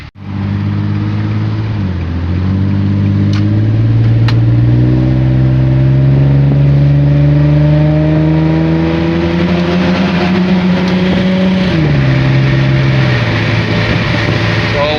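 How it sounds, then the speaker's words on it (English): Infiniti G35 / Nissan 350Z on the road, a loud continuous engine drone that climbs steadily in pitch through the gears, dipping briefly at each shift, heard from inside the car. "Driving the car right now, so there is no noise very much."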